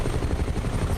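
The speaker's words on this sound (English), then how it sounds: "So we'll try and hammer this helicopter." A Huey helicopter in Microsoft Flight Simulator 2020, flying over Ireland, gives a continuous, loud rotor thump with a dense, rumbling beat.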